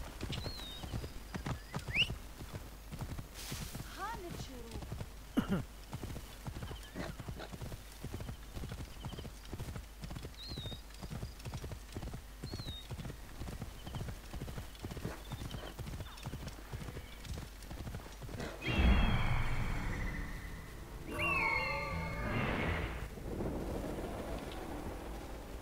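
A horse gallops in Assassin's Creed Origins, with rapid, even clip-clop hoofbeats running steadily for most of the clip before giving way to louder rushing noise and a whinny-like cry near the end.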